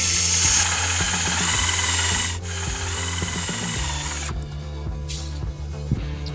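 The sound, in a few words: power drill driving screws into railing clips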